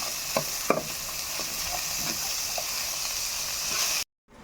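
Wild mushrooms fry in a pan with a steady, close sizzle, while a spoon scrapes and stirs a few times before the sound cuts off abruptly.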